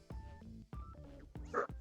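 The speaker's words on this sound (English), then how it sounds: "I do not know what you're barking at." A dog gives a few sharp, close barks and yips in separate bursts, with short pauses between them.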